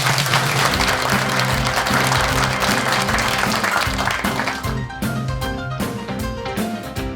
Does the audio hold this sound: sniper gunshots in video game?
no